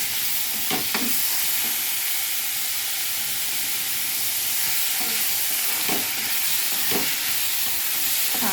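Tomato pieces frying in oil with turmeric and chili powder give a steady, close sizzle and hiss, broken by a few scraping stirs of a spoon through the pan.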